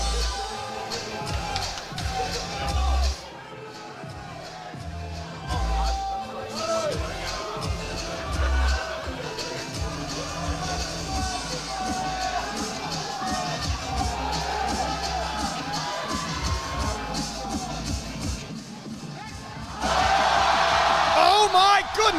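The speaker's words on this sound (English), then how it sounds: "Got the support of the crowd. Chanting Penna, trying to will him." A crowd at a powerlifting meet in Sheffield shouts and chants a lifter's name in loud, rhythmic bursts, with cheering swelling at the end, under an excited commentator's voice.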